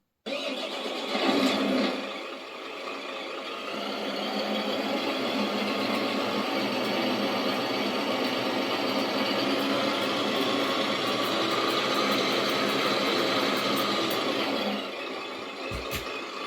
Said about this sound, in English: So if I just lift the rear axle up, start her up again.